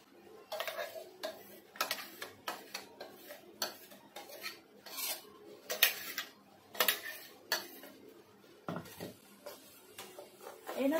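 Moong dal batter, ground in a mixer and turned into a bowl, is whisked briskly, giving a steady run of light rhythmic clinking and scraping strokes, close and fairly quiet, with no talk.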